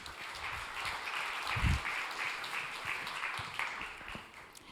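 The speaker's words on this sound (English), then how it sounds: "Applause, please." Audience clapping at a startup founders' pitch event, a moderate, continuous patter of hands with a brief low thump partway through, fading slightly toward the end.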